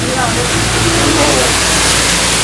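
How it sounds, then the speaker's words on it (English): A waterfall at an amusement park roars in a loud, steady, broadband wash, close by and unbroken, with faint voices barely showing through. "we can look out at the waterfall"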